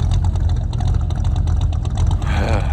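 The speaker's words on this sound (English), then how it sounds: "If it don't do anything but just sit there and idle, it sounds good at least." A car engine idles on day zero of a power tour, a loud, close, steady rumble with a slightly uneven pulse throughout and no voices over it.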